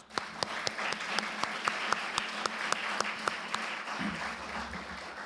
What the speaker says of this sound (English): Let's give all these business organizations a big round of applause.